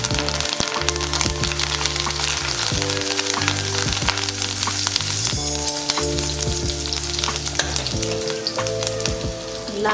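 Garlic, ginger and a few curry leaves crackle and sizzle in hot oil, a loud, dense frying hiss with sharp pops and some stirring clatter throughout, no talking.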